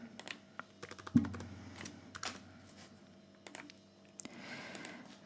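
Keys clack on a computer keyboard in a quiet room during bookkeeping data entry, with scattered, soft, irregular keystrokes and a few sharper taps.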